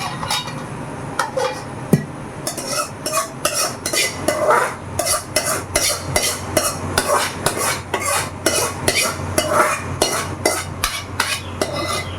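Meat and liver frying in oil in a pan, stirred with a metal spoon: steady sizzle under rapid, irregular scraping and clinking of utensil against the pan, loud and close throughout.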